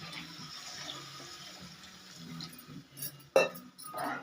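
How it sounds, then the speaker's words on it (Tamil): Water is poured into a cooking pot of sautéed vegetables for idli sambar, a soft running splash rising at the end with a brief clink, no talk over it. "இப்போ நம்ம காய் வேகிற அளவுக்கு தண்ணி ஊற்றிக்கலாம்"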